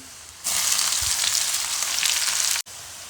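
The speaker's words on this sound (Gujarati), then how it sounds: "અને હવે આપણે નાખી દઈએ ડુંગળી" Chopped onion goes into hot oil with chillies, curry leaves and peanuts for batata poha, setting off a sudden loud, continuous sizzle that cuts out briefly near the end before resuming.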